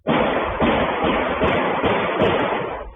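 A rapid string of loud, sharp gunshots fired in quick succession on a Cincinnati street, rumbling together, recorded in muffled, low-quality sound.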